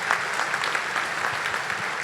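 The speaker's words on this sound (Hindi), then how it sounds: "सारी टीम को जोर से ताली बजा करके बधाई बधाई बधाई" Steady applause from an audience fills the space, many hands clapping in a dense continuous patter at moderate volume, congratulating a team of stage performers.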